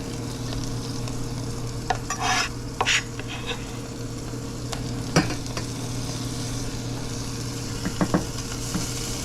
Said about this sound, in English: We're going to get these all sauteed right now, along with the onion that I have in there.